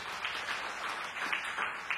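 Congregation applause during a church sermon, a soft irregular patter of many hands clapping, fairly faint and distant, with slight swells over two seconds.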